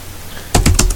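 A few quick keystrokes on a computer keyboard as a command is typed at the command prompt, a short burst of about four close, crisp clicks after a quiet moment.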